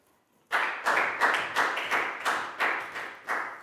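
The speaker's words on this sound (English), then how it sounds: "High five and a big round of applause for Nadia" A small group of classroom students claps for a classmate in a Year 4 maths lesson, a near, loud burst of about nine separate uneven claps in quick succession with no talking.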